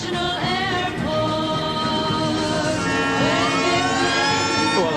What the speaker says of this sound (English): the siren goes to start the third quarter